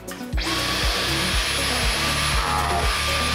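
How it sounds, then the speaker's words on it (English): Dyson vacuum running with its pet grooming attachment on a husky, a loud steady motor whine with rhythmic low thumps as the brush sweeps repeatedly through fur. "check out all this fur that this vacuum sucked up with the pet grooming attachment"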